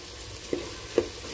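Masala with turmeric and black pepper roasts in a pan for a veg mutton keema, a soft steady sizzle with two light spoon knocks against the pan, quiet and close.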